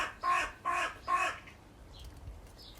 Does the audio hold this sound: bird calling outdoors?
yes